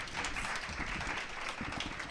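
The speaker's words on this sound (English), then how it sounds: "Please, an applause for my panelists." An audience claps for the panelists at the close of a panel discussion on the Black Panther phenomenon, a dense, steady wash of applause that sounds fairly distant and quiet.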